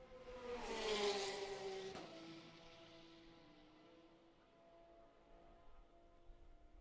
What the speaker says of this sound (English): Camaro of Richard Wolsifer spitting some flames on trailing throttle down into turn 8